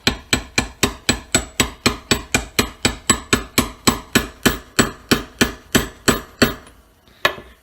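About twenty evenly spaced, ringing metal taps on a 1-1/8 inch socket drive a part home during a Dodge Cummins vacuum pump rebuild. The close, crisp blows come at a steady rhythm, then one final tap follows after a pause.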